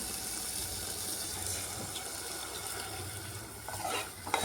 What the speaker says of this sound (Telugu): ఇప్పుడు ఇందులోని కొంచెం వాటర్ వేసుకోవాలి.